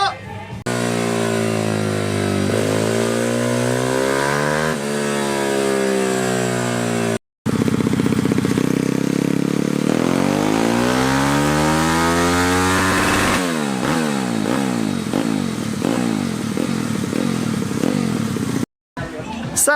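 A racing minibike engine screams on a dyno through repeated loud rising revs, each sweep climbing in pitch before cutting off briefly and starting again, harsh and close.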